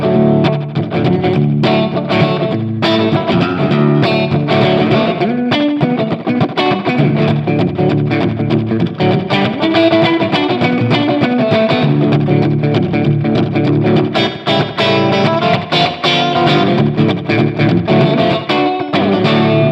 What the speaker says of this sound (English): see if we can get like country slapback type thing